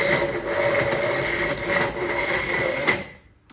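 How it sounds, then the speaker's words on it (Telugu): A kitchen mixer grinder runs steadily and loudly, grinding dates into a paste, its whirring motor holding an even roar before cutting off abruptly near the end. "ఇలా అన్ని మిక్సీలో వేసుకొని పేస్ట్ చేసేయాలి"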